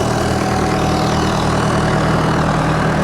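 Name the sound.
bulldozer and backhoe engines running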